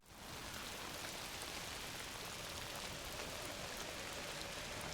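Steady rain in a video game falls in a soft, even hiss that fades in at the start and holds constant, with no voices.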